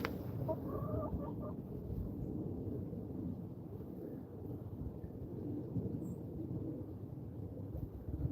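Hens cluck softly inside a backyard chicken coop, a low continuous flock murmur with occasional clucks, steady and moderately close with no talking.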